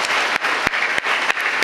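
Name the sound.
audience applause at a college speech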